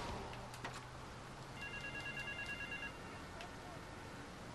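A payphone rings in the game Grand Theft Auto: Vice City, a faint repeating electronic trill lasting a few seconds under a busy street ambience and a brief thump.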